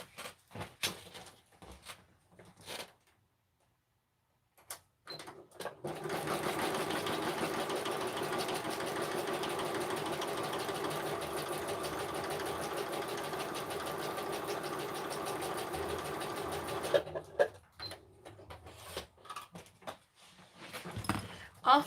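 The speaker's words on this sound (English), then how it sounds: "I'm going to stitch across here a sec." A sewing machine stitches across a paper craft project, a steady fast mechanical whirr running for about twelve seconds, with handling clicks and brief talk before and after.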